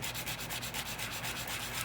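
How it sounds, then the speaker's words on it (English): Steady abrasive rubbing of sandpaper on a Hellcat metal pulley, continuous with faint rhythmic strokes, close up, no talking. "when you're sanding it like this"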